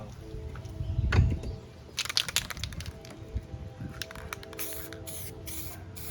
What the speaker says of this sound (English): See if we can blow that off with the air hose.